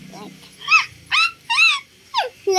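A child imitates a crying, whimpering dog with a series of high, wavering whine-like yelps, about four loud bursts in quick succession at close range, with low background murmur between.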